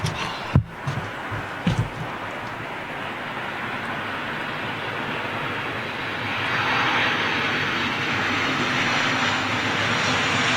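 An airplane at Manchester International Airport, a broad steady engine roar that swells gradually as the aircraft approaches, with a few brief knocks near the start.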